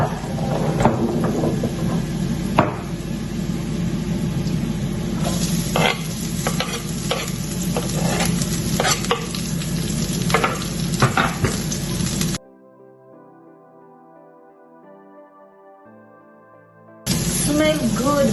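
Shallots fry in a pan with a little salt, making a loud, crackling sizzle broken by scraping stirs. The sizzle cuts out into near silence for several seconds, then returns.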